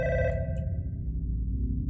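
A telephone rings inside the horror video game God's Basement, a loud electronic trill with a couple of bright bursts early on, over a steady low rumbling game ambience and no voices.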